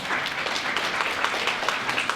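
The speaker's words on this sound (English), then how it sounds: "Yes, applause." Continuous clapping from an audience at the TFLA awards ceremony, a steady, fairly loud wash of applause with no pause.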